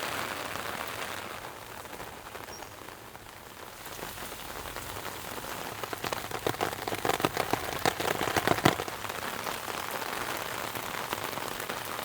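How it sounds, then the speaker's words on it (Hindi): Heavy rain pours steadily on a village home in Punjab, Pakistan, a dense continuous hiss with scattered sharper splashes and drips that thicken in the middle, no voices over it. "ये रही हमारे सुकून घर की बारिश"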